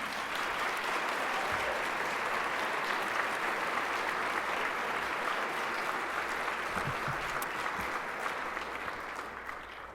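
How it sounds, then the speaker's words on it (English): An audience applauds student award winners, a dense, steady burst of clapping from a full room that fades slightly toward the end, with no voices over it. "let's give one more round of applause to Galilea,"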